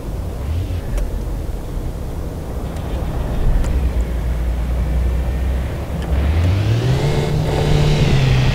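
Audi R8 V10 engine in the driving simulator City Car Driving, a steady hum that rises into a climbing rev toward the end, loud and continuous, with a voice talking partly underneath.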